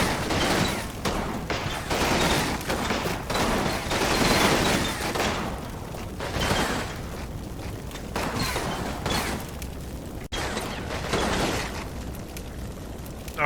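Machine gun bursts and explosions from the World War II strategy game Combat Mission: Red Thunder, loud overlapping volleys of rapid fire that rise and fall in waves, with no talking.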